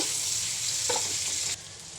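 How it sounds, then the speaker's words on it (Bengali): Garlic, chilli and onion fry in hot oil with a steady, close sizzle, a brief stirring clatter in the middle, and the hiss dropping off near the end. "রসুন লঙ্কা পেঁয়াজ তেলেটা আগে একটু ভেজে নিচ্ছি"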